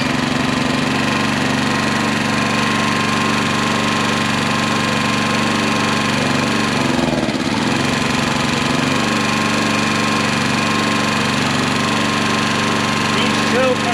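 A Honda EX1000 portable generator engine running with a steady mid-pitched hum and vibration, briefly faltering near the middle before continuing, heard up close with some speech present.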